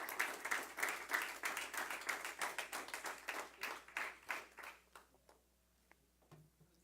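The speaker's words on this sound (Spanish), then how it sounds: "Le damos una ofrenda de palmas al Rey en el nombre de Jesús." A church congregation claps together in a dense, steady burst of applause that thins into scattered claps and fades to near silence, with no voices over it.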